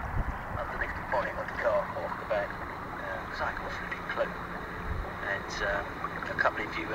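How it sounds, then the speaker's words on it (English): A kayak is paddled along the River Wye, with soft watery splashes and dips at an uneven rhythm over a windy outdoor background. Faint voices can be heard in the mix. "Been paddling for about 2 hours now, maybe a bit longer"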